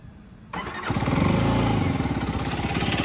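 A new Aprilia RS4 125 motorcycle engine with stock exhaust cranks and catches after a short quiet moment, then settles into a steady, loud, pulsing idle nearby.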